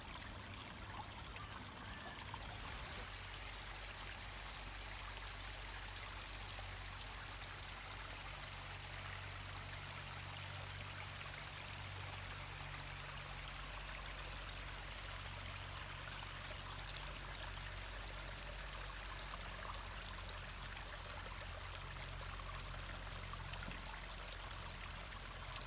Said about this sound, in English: we're going to be exploring a stream in Frick Park called Falls Ravine